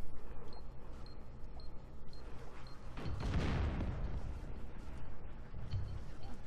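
A grenade goes off in the video game Oddworld: Abe's Oddysee, a muffled, rumbling boom swelling midway through over a low background hum, with a few faint high blips around it.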